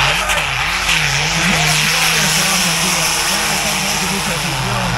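A 4WD car in a hill climb event races uphill with a loud, close engine roar that rises and falls with the gear changes and never lets up, with a commentator talking over it.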